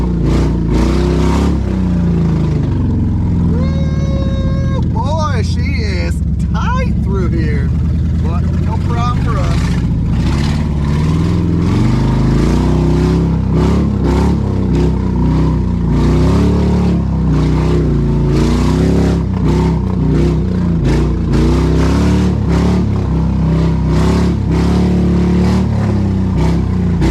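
Ford Expedition with the top cut off, held in first gear in 4 low, engine revving loudly without shifting, pitch climbing and dropping in rough surges over a long stretch while people talk over it.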